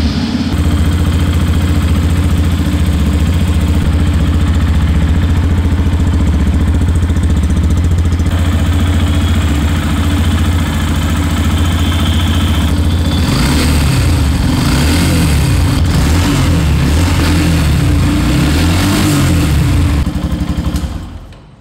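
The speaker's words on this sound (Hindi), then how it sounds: "तो चलिए इस FZX 150 की एग्जॉस्ट नोट एक बार सुनते हैं।" A 2023 Yamaha FZ-X 150 motorcycle with a single-barrel exhaust and black muffler cover idles steadily with a loud, even low thrum. It rises into a brief rev partway through, then settles and cuts off at the end.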